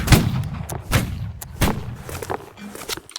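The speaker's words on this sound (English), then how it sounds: "Alright, ready, fire at will." Musket volleys crack and thud in a Holdfast: Nations at War battle, several booming shots in an uneven ragged sequence, loud and close with more distant reports rolling behind.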